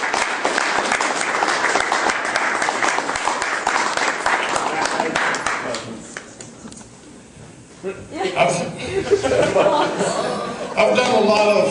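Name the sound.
comedy club audience applause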